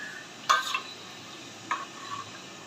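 A spiced mixture of eggplant and dried loitta fish, seasoned with salt and sugar, is stirred in a pan, giving two quiet clusters of spatula scrapes and metallic clinks against a near-silent background.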